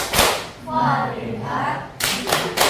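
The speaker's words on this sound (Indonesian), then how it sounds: "Tepuk fokus." A group performs a classroom focus-clap routine, chanting in unison between bursts of sharp, crisp hand claps at the start and end.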